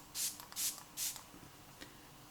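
Three quick hissing spritzes of MAC Fix Plus face setting spray in an even rhythm, close and crisp against a quiet room, followed by faint soft handling noises.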